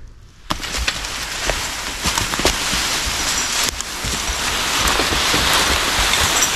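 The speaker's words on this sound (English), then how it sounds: "It's kind of raining." Rain falls outdoors during log-skidding work, a continuous close wash of patter with scattered sharper drop hits and no voices.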